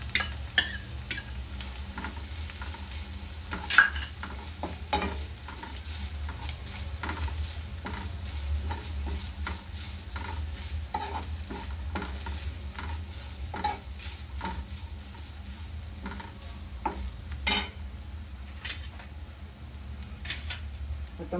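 Grated coconut and garlic being sautéed in a pan for a cluster bean (guar) vegetable dish, giving a steady low sizzle with repeated scraping stir strokes throughout, close and moderately loud with no talking.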